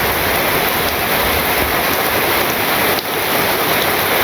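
Heavy rain pours down steadily on a rainy day in a village, a loud, dense, unbroken hiss with no voices, dipping only briefly for a moment near the end.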